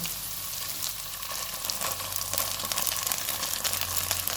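Potatoes and capsicum frying in a pan for aloo Manchurian: a loud, continuous hissing sizzle with faint stirring, steady throughout and no voices.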